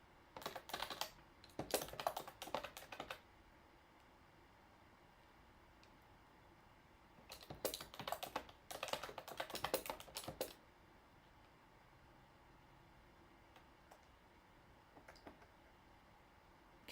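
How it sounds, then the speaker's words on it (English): Typing on a computer keyboard while designing a skincare Instagram flyer: close, quick bursts of key clicks in three separate runs, with quiet pauses between them and no talking. "I'm going to type the same words as just over here."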